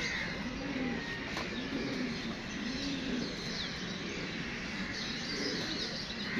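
Flock of pigeons from a rooftop loft during a pigeon-flying contest, cooing in repeated low rolling phrases against a steady outdoor hiss, with scattered chirps and no talk.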